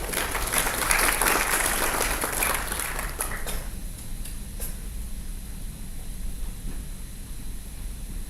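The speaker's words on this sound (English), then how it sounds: "Please give a round of applause." Applause from an alumni meeting audience as a professor is invited back to the stage, a dense burst of clapping for about three and a half seconds that then stops, leaving a quiet room hum.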